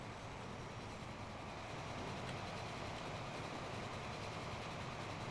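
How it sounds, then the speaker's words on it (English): A steam train runs in the Transport Fever railway video game, giving a steady, unbroken rumbling roar at low volume with no changes in rhythm and no talking. "just playing around with the steam trains makes me think I'd love to do another series which is just steam trains"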